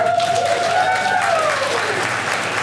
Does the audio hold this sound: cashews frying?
no